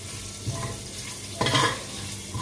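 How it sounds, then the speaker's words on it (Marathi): Crushed ginger and green chili paste sautéed in a pan over heat, a soft steady sizzle with a couple of brief louder stirring scrapes, close and alone. "त्याच्यामध्ये पहिल्यांदा आलं आणि मिरचीचा ठेचा चांगला परतून घेऊया"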